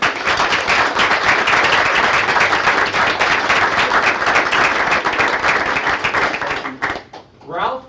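A room at a Weatherford College Board of Trustees meeting applauds honored student veterans, with loud, sustained clapping that fades near the end as a voice begins.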